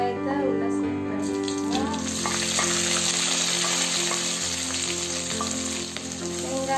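Browned onions for chicken kolambu sizzle loudly and continuously in a pan, with a dense crackling fry that swells after a brief quieter start and holds steady throughout.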